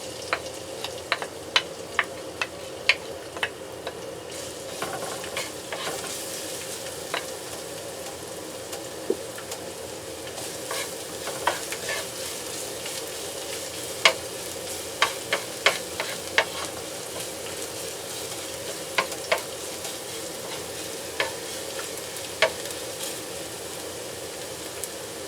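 Garlic frying in hot oil for pork menudo gives a steady, close sizzle with frequent sharp crackles and pops throughout, and no voices.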